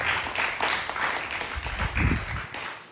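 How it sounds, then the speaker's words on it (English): Audience at a cricket league event applauds continuously, a dense moderate-volume patter of clapping throughout with a low rumble near the end. "So a big round of applause for them for taking the time."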